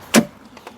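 A Volvo S40 interior door pull being operated gives one short, sharp click-clack near the start, followed by a couple of faint small clicks, close up and brief.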